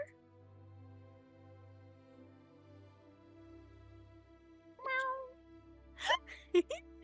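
A voice imitating cat noises during a tabletop role-playing session: a few short meows and a drawn-out mewl near the end, fairly close and clear over faint background hum, with talk around them.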